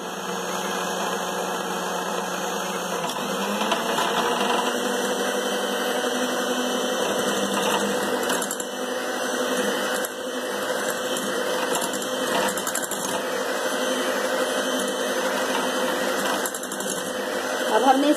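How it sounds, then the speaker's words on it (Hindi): An electric hand mixer beating cold cream for pistachio ice cream, a steady loud whirring drone that holds throughout with a slight rattle, close up. "बीट कर रहे हैं अपनी क्रीम को"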